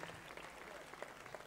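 Faint applause from a crowd at a fashion show, steady clapping that continues throughout at a distance.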